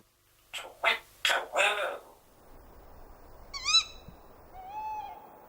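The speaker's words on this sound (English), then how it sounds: "The tawny owl's familiar call is, in fact, a duet by a mated pair. Her kerwick starts it off, and his hoot finishes it." A mated pair of tawny owls duets: the female's sharp kerwick rings out, then the male's drawn-out hoot follows, both fairly clear against quiet night air after someone speaks at the start.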